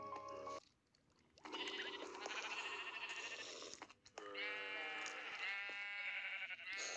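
Several sheep in a sheep farm in the Minecraft video game bleat in long wavering overlapping calls, close and fairly loud, nearly continuous with two short pauses and no talk.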